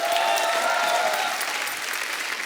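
A studio audience at a Hindi comedy talk show bursts into loud, dense applause, a sustained wash of clapping that fades slightly toward the end with no talk over it.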